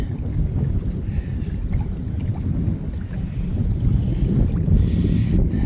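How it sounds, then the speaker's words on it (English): Strong wind blows outdoors at a plane crash site near Harmon Air Force Base in Newfoundland, with steady rumbling gusts buffeting the microphone, close and continuous with no other clear sounds. "it's extremely windy today"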